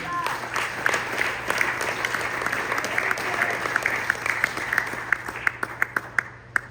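A church congregation applauding together, with dense sustained clapping that swells and carries on, sharp individual claps standing out near the end, with a voice under it.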